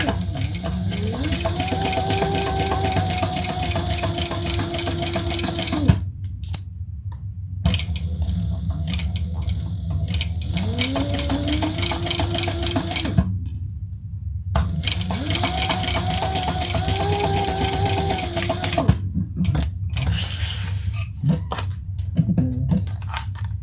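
A sewing machine stitches fabric in several runs of rapid, rhythmic mechanical whirring. The runs stop and restart, with quiet clicks and handling noises in the gaps between them.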